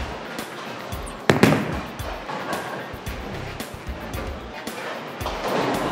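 Bowling ball crashing into pins on a spare attempt at a bowling center, a sharp loud impact about a second in, then scattering rattle fading under a noisy alley background.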